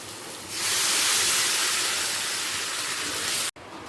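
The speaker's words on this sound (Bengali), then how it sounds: "কষানো থেকে সুন্দর গন্ধ বেরোতে শুরু করে দিয়েছে এই সময় দিয়ে দিচ্ছি গরম জল" Hot water hits a pan of sizzling spiced potatoes and soybean chunks, bursting into a loud, steady steam hiss that lasts about three seconds before cutting off abruptly.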